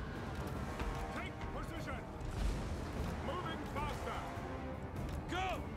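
Artillery fire from a Warhammer 2 battle rumbles continuously as a dense, low wash of distant booms and battlefield noise, with scattered whistling effects layered over it and voices talking throughout.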